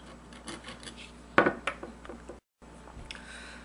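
A plastic pen part is cut with a handsaw or knife in a few close, scraping rasps, with one loud burst in the middle before a brief silence.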